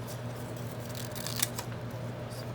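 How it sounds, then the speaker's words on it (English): Scissors being handled close by, a few quiet metallic snips and clicks over a soft steady background hum, with no talking. "There was something stuck on there on the scissors, but it's gone."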